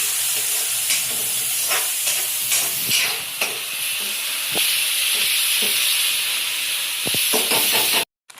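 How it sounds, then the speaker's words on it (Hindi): Chulbule snack frying in hot oil, a steady bright sizzle and hiss with occasional stirring clatters, close and continuous until it cuts off near the end. "तो अभी फ्राई करके निकाल लूँ।"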